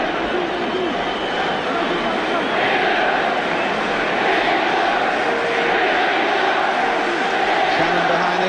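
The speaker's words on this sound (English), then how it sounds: "the England crowd getting behind the team as well" England football crowd at a home European Championship qualifier against Portugal, a broad steady roar of supporters getting behind the team, continuous and fairly loud beneath a commentator's voice.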